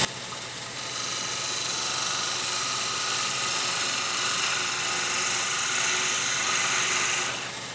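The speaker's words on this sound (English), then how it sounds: "I'm going to take a bowl gouge, a smaller bowl gouge, and try to make a nice finishing cut, turning my speed up a little bit" A wood lathe spins steadily while a small bowl gouge takes a finishing cut on a goblet, giving a continuous high whine and hiss at a raised speed that holds for several seconds and then eases off, with no talking.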